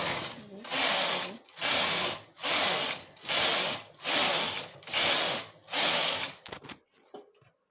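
Knitting machine carriage working plain rows on a sweater sleeve, sliding back and forth in seven loud, even broadband passes of about a second each, with short gaps between them before stopping.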